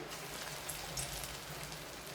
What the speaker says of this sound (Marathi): आता आपलं तेल चांगलं तापलंय आता मी भजी सोडून घेते